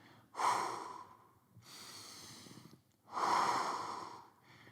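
A person holds a mobility exercise position and breathes audibly in long, close, steady breaths, with three main inhale-exhale cycles separated by short pauses.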